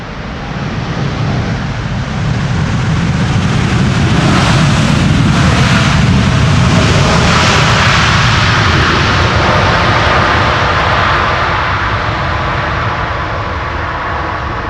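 A DHL/Atlas Air Boeing 747-8 cargo jet operated by Polar Air Cargo lands at Amsterdam Schiphol runway 18R, a loud, sustained broadband jet roar that swells mid-pass and stays heavy throughout, with no talk over it.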